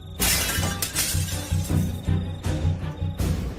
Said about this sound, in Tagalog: ay isang nakabibinging pagkabasag ng salamin na ang umalingaw-ngaw.